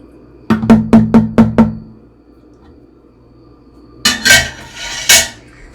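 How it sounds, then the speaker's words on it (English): A spoon stirring mixed berry wine must in a one-gallon jug, six quick ringing clinks against the glass in a row, a pause, then a few scraping knocks, close and loud. "We can go ahead and give that a little bit of a stir."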